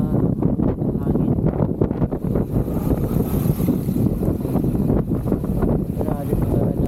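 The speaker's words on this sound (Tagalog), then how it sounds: "Yung hangin." Strong typhoon wind during Typhoon Uwan under signal number 4 in Pangasinan roars steadily and close into the microphone, with a voice talking over the constant buffeting rush.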